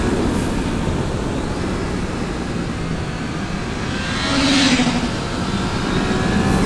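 Triumph Trident 660 motorcycle engine on the road, a steady loud low drone with wind roar, swelling slightly midway and continuing unbroken throughout.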